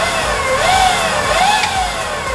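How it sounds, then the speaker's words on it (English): A DIY electric scooter motor spins up with a loud, close electric whine that rises, dips and rises again in pitch, steady and alone with no talk. "motor goes round and it hasn't blown me up or caught fire"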